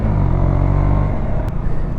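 Steady low engine rumble from a KTM Duke 125 motorcycle being ridden, a continuous close drone holding even for the whole stretch with no voices.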